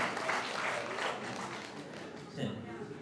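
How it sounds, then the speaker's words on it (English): A crowd applauds with steady clapping at a Freeman of the City award ceremony, faint and somewhat distant, while a voice speaks over it. "Give them a round of applause, ladies and gentlemen."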